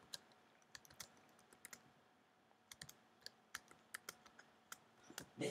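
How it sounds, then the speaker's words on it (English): Someone types on a computer keyboard during an online PvP game. Faint, irregular key clicks come in small bursts and scattered single taps, with a louder clatter at the end. "They're typing."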